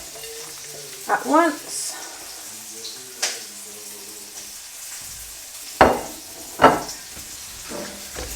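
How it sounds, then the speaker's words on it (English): Vegetables sizzle steadily in a hot pan while a utensil stirs and scrapes through them, with a few sharper clanks and brief speech. "I'm just going to give this a nice stir to get it all nice and combined"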